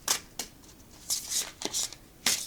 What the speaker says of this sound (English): overhand shuffle is pretty smooth